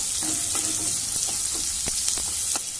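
Onion sizzles steadily in a pan with cumin and curry leaves. A few soft scrapes and taps of stirring sound close by over the continuous frying hiss.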